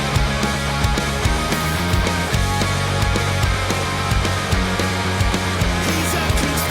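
An excerpt of a song plays in a podcast break, a dense full-band mix with a driving beat filling the clip.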